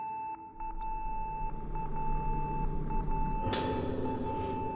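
Continuous electronic beeping hums at a fixed pitch in Project Zero: Mask of the Lunar Eclipse, a shrill tone running steadily under game ambience until a louder, hissing burst of noise swells in near the end.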